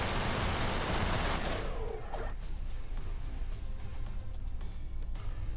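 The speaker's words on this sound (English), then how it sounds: "And there we go, kaboom. Yay me, I just exploded." The player's spaceship explodes in the Everspace video game, a loud noisy blast that sweeps down and fades into steady engine rumble and scattered shots.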